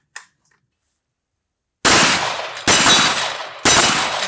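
Three sharp, loud gunshots from compact 9mm pistols, a Glock 43X and a SIG P365, crack out at an outdoor range in quick succession after a faint tap and a pause, each with a brief ringing decay.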